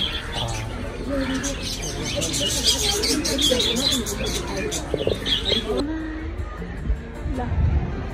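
Small birds chirp and tweet in dense, rapid bursts at a zoo aviary in Kathmandu, fairly close and busy, with a voice talking over them before the calls thin out near the end.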